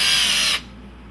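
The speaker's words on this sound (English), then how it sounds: "now I'm going to get the drill driver and just put these in" Cordless drill driver sinking screws while assembling wooden display cases: a loud, high motor whir for about half a second that then cuts off to quiet, alone with no voice.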